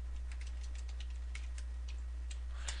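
Quick, light keystrokes on a computer keyboard typing a short Hello World line for a Small Basic program, faint and close, forming an irregular run of soft clicks with no talk.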